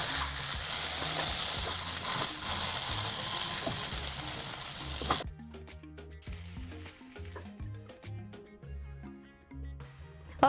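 Chilli rava idli sizzles with spicy masala in a lidded pan: a loud, steady, close frying hiss for about five seconds, then it cuts off abruptly, leaving only light plucked music with no voices.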